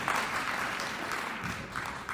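Clapping hands from an audience at a colloquium on South Africa's 30 years of freedom, a steady burst of applause lasting about two seconds, moderately loud and dense without talk.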